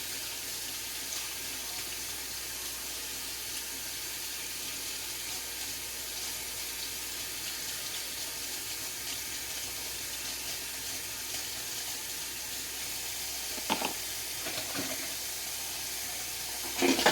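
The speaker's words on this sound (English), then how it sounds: "gonna wash my hands." Tap water runs steadily into a sink as someone washes their hands, a continuous close hiss with no talking, plus a couple of brief clatters near the end.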